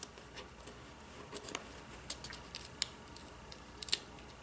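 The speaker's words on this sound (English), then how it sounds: "I think I'm gonna have to cut the stem" Scissors snip through a flower stem in a quiet room during journaling craft work, giving a few sharp, brief clicks spread over several seconds, with the last cut the loudest.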